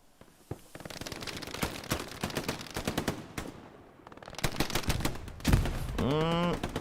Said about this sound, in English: they're getting the MGs up and running